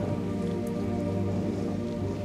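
Steady rain patters on a surface without pause, a dense even hiss with no voices.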